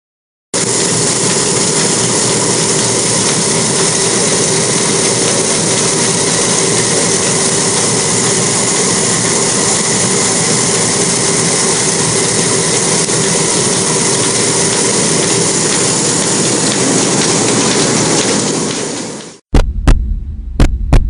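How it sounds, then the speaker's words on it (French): Wheat being crushed between the steel rollers of a flour mill roller machine, a steady loud droning hum with a deep throb running unbroken for about nineteen seconds before cutting off abruptly, with no voices. "Ce sont les cylindres qui écrasent le blé pour pouvoir en extraire la farine."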